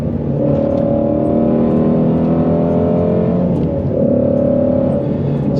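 Ford Mustang Shelby GT350R Heritage final edition V8 revving hard at full throttle up to about 4,000 rpm, a loud continuous close-up engine roar with rising harmonic sweeps, briefly easing and climbing again.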